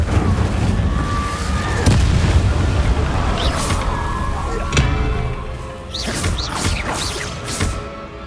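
Repeated Incendio fire spells cast in Hogwarts Legacy, loud booming bursts and crackling blasts over several seconds amid continuous battle noise.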